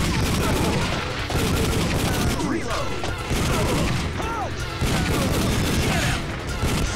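Constant, dense gunfire from the Time Crisis arcade shooter running on a PS1 emulator: rapid overlapping shots and machine-gun bursts fill the whole stretch at high volume, with chirpy game effects layered on top.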